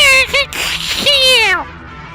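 A human voice imitates a gorilla call with a few short rising and falling whoops, loud and close, followed by a longer wavering cry that trails off.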